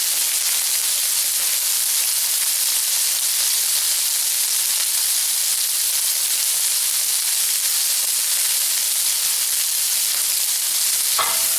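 Keto kung pao chicken sizzles steadily in a hot pan as it is stir-fried, a continuous loud hiss and crackle with no talking.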